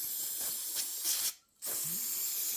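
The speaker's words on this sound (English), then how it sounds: "Okay, spray this off." Sharp hissing bursts of cleaner sprayed on Husqvarna 394XP chainsaw engine parts close by, two long blasts split by a short silent break.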